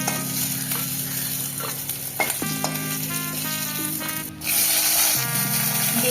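Freshwater snails frying crisp in a pan, with a continuous sizzle and clattering stirring scrapes, plus a low steady hum from the stove or nearby appliance and a louder burst near the end.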